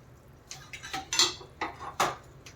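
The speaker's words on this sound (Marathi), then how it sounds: "आणि याच्यावर आपण आता भात घालणार आहोत." Cooked rice is spooned onto a veg biryani layer in a pot, giving a series of clinking, scraping spoon-on-metal knocks in an uneven rhythm, close and fairly loud with no talking.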